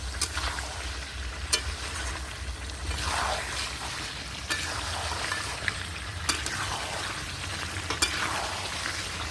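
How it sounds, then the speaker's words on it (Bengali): Potatoes being stirred into Belgian duck meat curry in a pot over a wood-fired clay stove, giving a soft ongoing sizzle with occasional spoon knocks and scrapes, fairly quiet, no voices. "এখন আমি আলুগুলো দিয়ে দিচ্ছি ভালো করে মাংসের সঙ্গে আলুটাকে মিশিয়ে নেবো"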